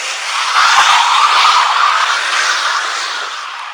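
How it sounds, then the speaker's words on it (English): During a police traffic stop, a car speeds away and its tires squeal loudly in a long, steady screech that fades slightly toward the end. "6-3 David, car just took off on us."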